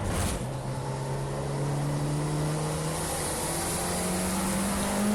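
A Nissan Micra Super Turbo race car drones loudly from inside the cabin during a time attack at Cadwell Park, its engine tone rising steadily under load after a brief gear change at the start.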